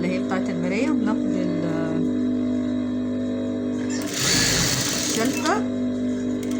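A sewing machine stitches fabric pieces for a couch cover with a loud, continuous mechanical hum, while a person talks over it throughout and a brief burst of rougher noise rises midway.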